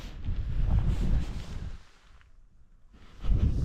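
Gusty breeze buffeting a Trailstar shelter at a wild camp on Kinder Scout, loud rushing wind noise that drops to a lull before surging again, close to the microphone with no talk.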